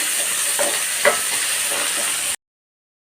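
Cut tomatoes sautéing in a pan with stirring, a steady bright frying sizzle with a couple of louder scraping stirs, continuing alone until the sound cuts off abruptly near the end.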